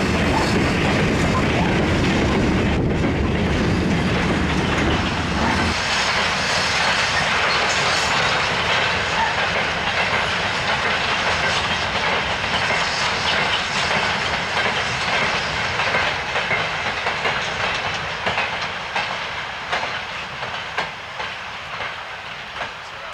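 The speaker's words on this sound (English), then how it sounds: "46521 rumbling through Cornham Wood House at the head of the 2 p.m. Loughborough to Rokeley Brook wind cutter mineral train" Steam locomotive 46521 rumbles past at the head of a mineral train on the Great Central Railway, loud at first with heavy chuffing, then a long rolling clatter of wagons slowly fading into the distance.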